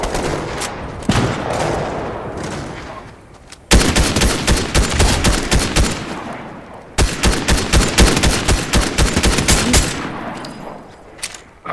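Fortnite gunfire in long rapid bursts of close, sharp shots, two sustained volleys after a quieter opening with scattered reports, no voices over them.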